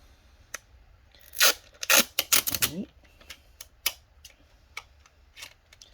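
Adhesive tape pulled and torn off during a 2019 27-inch iMac A2115 repair, giving a burst of sharp ripping and crackling strips in the middle, then scattered small ticks and clicks, close up with no talking.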